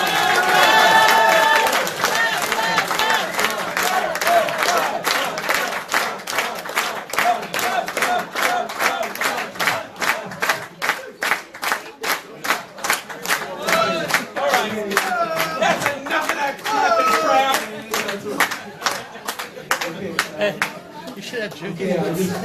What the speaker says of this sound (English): So, why don't we give Raj a round of applause and see if maybe he comes a little faster?